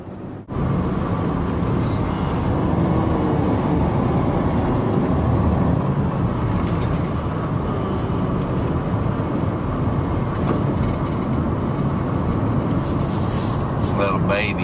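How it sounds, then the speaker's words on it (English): A big truck rolls close alongside a car, a steady loud broadband road and engine rumble that holds from start to end with no break. "Big old truck right next to me."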